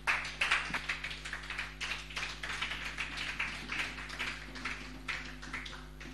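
Church congregation at a Sunday service clapping to welcome the pastor, a steady run of sharp, fairly close hand claps with a loose rhythm over a constant low hum, no voices.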